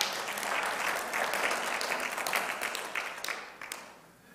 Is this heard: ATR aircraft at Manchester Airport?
no